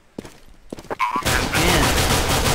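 Gunfire in the video game Counter-Strike: a few sharp shots give way to a dense, loud burst of sustained automatic fire, with brief excited voices at the start.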